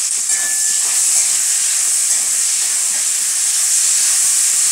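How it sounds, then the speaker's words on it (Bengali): Chopped onions with green chilli frying in a pan for a Bengali lau chingri dish, giving a loud, steady hiss and sizzle that holds without a break from start to finish, with no voices. "একটু ভেজে নিই পেঁয়াজটা।"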